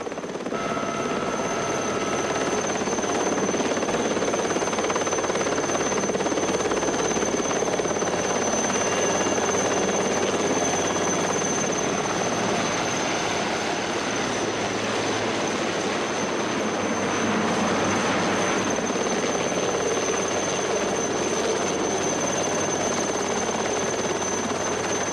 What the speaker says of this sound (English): Two helicopters!